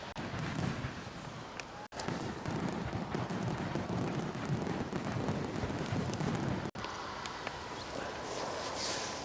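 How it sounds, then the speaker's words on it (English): A fireworks sound effect plays during a live plane-spotting stream at Edinburgh Airport, a dense crackling barrage of bangs that runs for about nine seconds with two brief cutouts. "Let's get the fireworks on."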